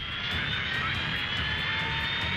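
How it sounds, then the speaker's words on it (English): In the video game Ace Combat 7, a jet aircraft engine roars at takeoff, a loud, steady, close whine and rush that holds throughout without pause. "former President Harling's transport is ready to take off"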